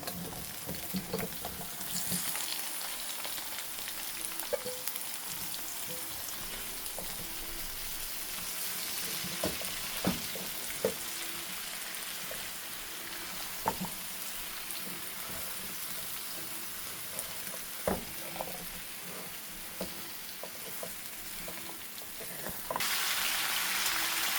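Cut raw tomatoes fry in a pan with a soft, steady sizzle, faint and close, broken by occasional clicks and stirring knocks, and a louder hiss swells near the end.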